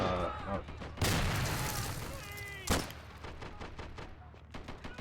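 Explosions and gunfire in the video game Army Men: Plastic Wars, with a loud blast near the one-second mark, a second sharp boom shortly after, and a scatter of rapid shots and game sounds between them.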